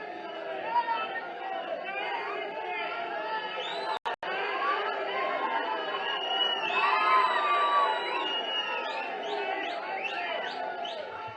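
A large crowd cheers and whoops in welcome at a BRS party joining event in Gajwel, with steady, dense shouting and chatter lasting throughout and a brief dropout partway through.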